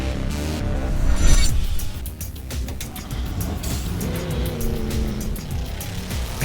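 A racing car in a racing simulator video game roars at high revs, with tire squeal and quick shifts in a loud, steady burst of engine noise.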